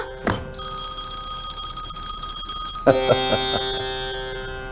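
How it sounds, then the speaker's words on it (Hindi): A telephone bell rings in a couple of bursts, with a steady electronic tone sustaining underneath between the rings. "बजी, घंटी बजी।"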